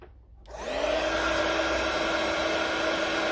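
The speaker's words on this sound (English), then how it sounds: "I'm just going to turn on my heat gun." After a brief silence, a blower-type motor switches on and runs with a steady, loud whirring hiss close by.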